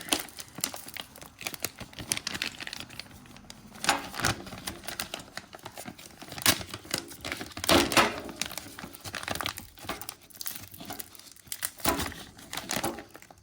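Something is cut open during a repair: bursts of crinkling, tearing and cutting sounds come in irregular clusters at close range, with several louder rips along the way.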